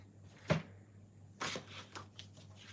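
Cardstock for a curtain card is cut indoors: a sharp single swish-snap near the half-second, then a longer rasping slice followed by a few softer paper rustles and taps, quiet and close with no voices.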